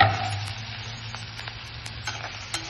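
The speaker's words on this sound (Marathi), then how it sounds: "आता ह्याला टाकून असं थोडंसं मिरची खरपूस होऊ द्यायची, लालसर" Green chillies and curry leaves fry in hot oil with asafoetida, a steady close sizzle with occasional stirring taps and scrapes, no voices.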